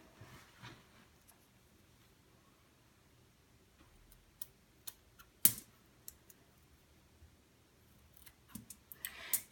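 Scissors snip into a silicone stress ball, giving sparse, faint, crisp clicks and snaps against near silence, with a few sharper cuts toward the end.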